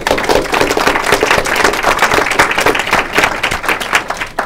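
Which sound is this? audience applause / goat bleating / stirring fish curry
audience applause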